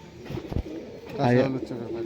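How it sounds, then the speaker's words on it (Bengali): A male Hazarwala high-flying pigeon with raw-turmeric yellow eyes gives a short, close cooing call, with someone talking over it. "কাঁচা হলুদ চোখের পায়রা হাজারওয়ালা মেল"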